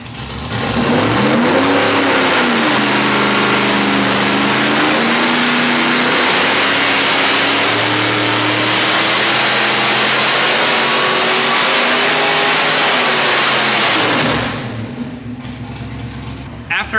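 A 427 cubic inch LS V8 on a dyno roars loudly through a sustained pull, its pitch climbing steadily from low to high RPM before cutting back abruptly near the end.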